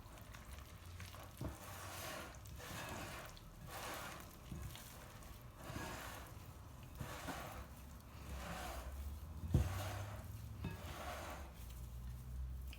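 Vegan bread dough mixed by hand in a bowl, a soft, steady wet squelching and stirring that runs continuously and close, with no talking.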